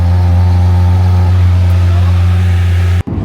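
A straight-piped Lamborghini SVJ at night drones with a loud, deep, steady exhaust note close by, holding for about three seconds before cutting off abruptly, with speech nearby.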